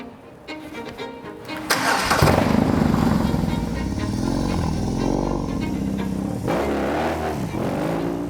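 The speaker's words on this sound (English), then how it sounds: "We'll fire it up." A custom-built BMW R18 motorcycle cranks and fires up, then settles into a loud, steady, close idle rumble with a few throttle blips.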